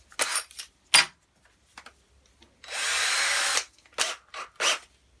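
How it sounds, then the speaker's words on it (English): A power drill boring a pilot hole into steel box section, with short bursts of the motor followed by one sustained whirring run of about a second, close up and with no talk. "I'm going to have to pre-drill, do a pilot hole, because that's not going to drill straight through"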